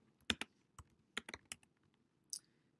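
Keys on a computer keyboard are tapped in a short, irregular burst of crisp clicks, close and quiet, with pauses between small clusters of strokes.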